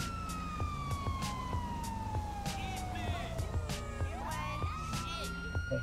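Police car siren in the video game GTA 5, a sweeping electronic wail that slides down and then back up, loud and close, over game background sound with repeated clicks and no speech.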